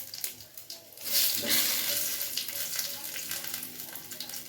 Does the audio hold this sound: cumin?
yes